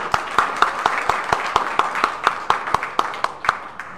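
Audience clapping in unison at a gathering, sharp, evenly spaced claps in a steady rhythm at moderate loudness, with no talk.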